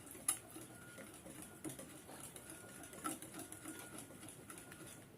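Ingredients for a molasses cake are beaten together in a bowl, giving a faint, steady rapid ticking and tapping of a utensil against the container, quiet and alone.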